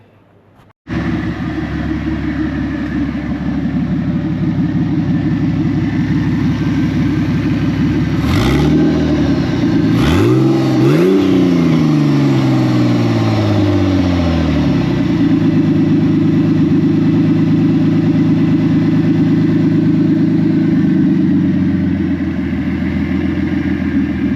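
A burnout car's engine idles loud and close, then revs up in a few sharp bursts before settling back to a steady, rumbling idle.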